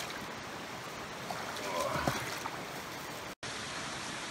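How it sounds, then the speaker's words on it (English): A small creek flows beside a road along the Trask River in Oregon, a steady close babbling rush of water with a few splashes, continuing alone without talk. "We got this beautiful little creek that runs up across the road."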